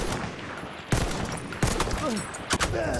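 Rifle shots from an 1895 rifle in Battlefield 1, three sharp separate cracks spaced about a second apart over a steady background of distant battle noise.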